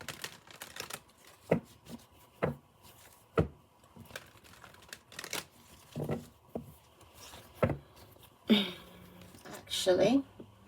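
A tarot deck is shuffled close by in a series of soft, irregular riffling taps and card slaps that grow busier toward the end, with faint voices in the background.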